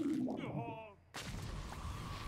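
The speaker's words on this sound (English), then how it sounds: "Oh, cool guys don't like explosions." Rumbling explosions from Plants vs. Zombies: Battle for Neighborville crash in after a short electronic tone, with heavy booming continuing and a voice faintly present.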